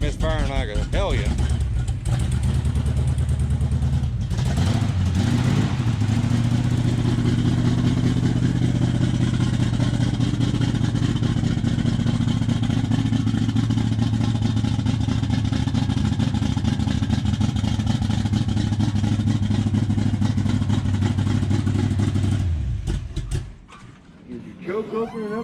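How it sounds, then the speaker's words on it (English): Big block tunnel ram V8 in a Dodge D100 truck idling roughly and misfiring, a loud close rumbling lope with uneven stumbles that runs steadily before the engine dies near the end; people talk over it. "That's misfiring like a hellion."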